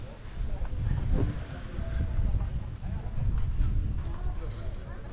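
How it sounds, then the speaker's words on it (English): Wind rises at a harbour at Port d'Andratx, a low gusting rumble buffeting the microphone beneath a person talking. "Ooh, and the wind's picking up."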